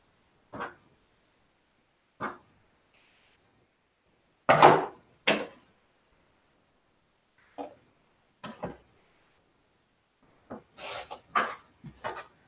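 Scissors or shears trim quilt block fabric in short, separate snips and rustles, spaced irregularly with silent gaps and a quick cluster near the end, close and fairly clear.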